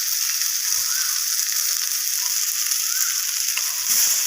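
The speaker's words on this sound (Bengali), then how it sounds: "তো মশলাগুলোকে একটু নাড়াচাড়া করে নিচ্ছি, একটু জল দিয়ে দিলাম যাতে না পুড়ে যায়।" Turmeric, red chilli and cumin powder frying in hot oil, giving a steady, close sizzle that runs unbroken, with a few faint stirring scrapes.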